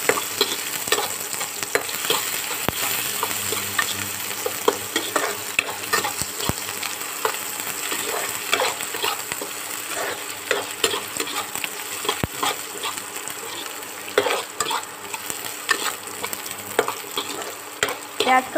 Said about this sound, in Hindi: प्याज को भी हल्का गुलाबी होने तक भून लेना है।